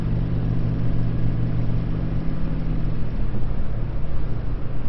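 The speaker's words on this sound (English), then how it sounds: "truck's got a little bit of exhaust leak" A truck engine with a small exhaust leak drones steadily at cruising speed, a loud continuous low rumble with a mild ragged rasp that stays even throughout, no voices.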